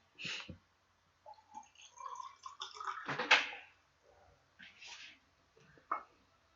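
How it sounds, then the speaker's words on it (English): Someone drinking water up close, with quiet, scattered swallowing and gulping sounds, small liquid slurps, and a brief louder gulp near the middle, separated by moments of near silence. "let me drink some water"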